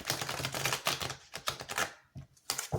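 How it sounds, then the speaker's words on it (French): A deck of tarot cards is shuffled with rapid, crisp riffling and flicking, close by and continuous, with a few brief pauses toward the end. "On mélange les cartes."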